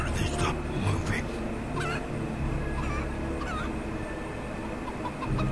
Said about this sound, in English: You will shoot these birds after I throw them.